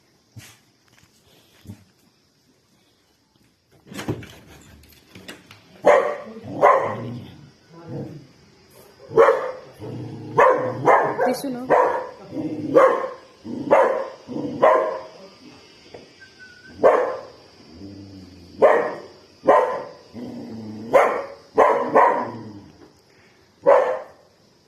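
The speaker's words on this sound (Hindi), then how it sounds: "ये मेन रास्ता है तो यहाँ से किसी को जाने नहीं देता, भौंकता है" A dog on a main path barks again and again in short, loud bursts with a few yips among them, close by, while someone speaks now and then.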